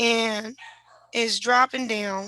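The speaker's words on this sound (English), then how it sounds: "That's my dog in the background" A dog barks in the background, several sharp, close barks interrupting a man's speech, with brief gaps between the bursts.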